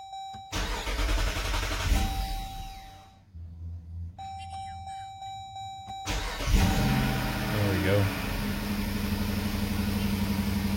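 A car engine cranks and fires up after the fuel pump primes, following a steady electrical hum, then settles into a medium-pitched idle with a slight rev.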